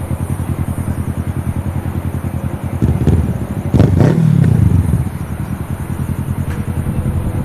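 Motorbike passing through an airport car park close by, its engine rumble swelling to a peak midway then easing off, set against steady low traffic and engine drone.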